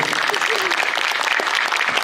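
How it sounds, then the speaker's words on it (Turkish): Audience applause at the opening ceremony of the first Hatay Karagöz puppet festival, greeting the mayor, a dense, even wash of many hands clapping continuously at full strength, with faint voices mixed in. "kuvvetli bir alkış rica ediyorum"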